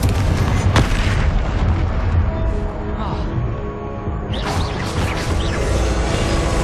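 Confringo spell explosions and combat effects in Hogwarts Legacy boom over a dense, continuous game soundscape, with spell-casting voices woven through the mix.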